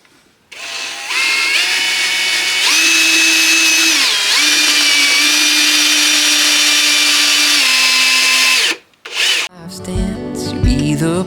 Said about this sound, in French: je vais percer à 2 cm